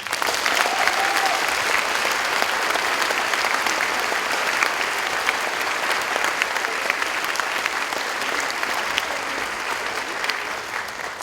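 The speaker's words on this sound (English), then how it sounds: "I think these girls deserve a round of applause." Sustained audience applause at a Memorial Day school assembly, a steady, dense wash of clapping from many hands lasting throughout at an even level.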